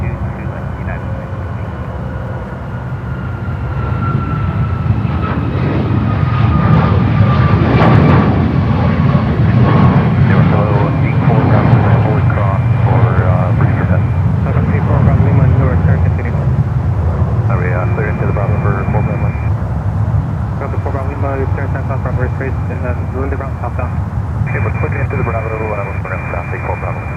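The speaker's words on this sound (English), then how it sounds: "There we have another takeoff, United." Airliner taking off at Newark airport, a loud, sustained jet engine roar that swells and holds, with tower radio chatter running over it throughout.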